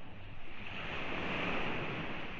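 Ocean waves break on Saud Beach in Pagudpud, Ilocos Norte, a steady loud wash of surf mixed with gusty wind noise on the microphone, with no voices.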